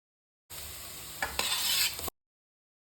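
Chopped tomatoes sauté and sizzle in a hot pan with onions, with a couple of sharp stirring scrapes over the steady frying for about one and a half seconds.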